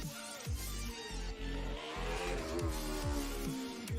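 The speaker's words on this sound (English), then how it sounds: "Imposingly noisy car that we have in this event as the retro category." A loud retro-category Formula Student race car engine roars and revs repeatedly during an endurance event, pitch sweeping up with each gear change, close by and continuous for the whole stretch.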